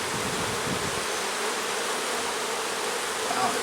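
Honey bees buzz densely around an open hive during a hive split, a loud, steady, close swarm drone filling the scene without any talk.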